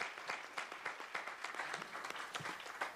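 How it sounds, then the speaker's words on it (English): Audience applause at a Commonwealth conference panel: a faint, distant, steady patter of many hands clapping, carrying on evenly with no talk over it. "Please let's give a round of applause."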